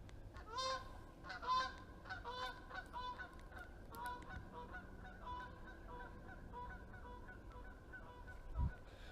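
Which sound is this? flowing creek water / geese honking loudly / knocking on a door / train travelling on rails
geese honking loudly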